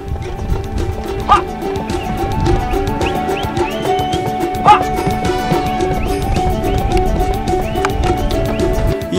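Kyrgyz taigan hounds bark beside horses, with a couple of sharp barks standing out over a busy, continuous outdoor din of animal movement and hoof sounds, while faint voices mix in.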